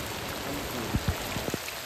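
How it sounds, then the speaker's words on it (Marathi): Heavy monsoon rain pouring during a trek at Mahuli fort, a dense steady hiss of falling water with a few louder drops and splashes close by, no talking. "भरपूर पाऊस आहे दादा, बघू शकता तुम्ही किती पाऊस पडते"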